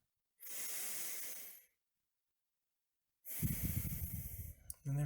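Two long deep breaths during a mindfulness meditation, a steady airy inhale followed after a silent pause by a rougher, louder exhale, heard close and alone.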